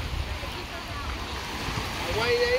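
Sea waves wash onto a beach in Castellon, Spain, making a steady, broad rushing surf with some wind noise throughout. Faint voices can be heard in the background.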